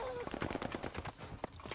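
STG assault rifle fire in Call of Duty: Vanguard, a quick run of sharp automatic shots with uneven spacing and in-game noise, fairly close and ending in a louder burst.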